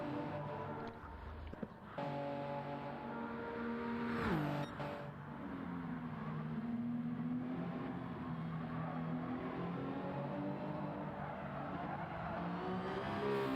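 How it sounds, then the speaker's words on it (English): Loud, continuous LMP prototype race car engine from Gran Turismo 7 during an online racing event, holding a steady high drone with a sharp downshift and re-acceleration early on, then sustained revving throughout. "It is definitely one of the most updated versions of an LMP car we have in Gran Turismo 7 right now"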